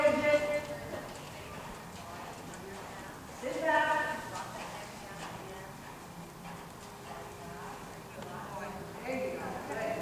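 Horse cantering in a dressage arena during a clinic, a faint rhythmic hoof beat on soft footing, with an instructor's voice talking over it.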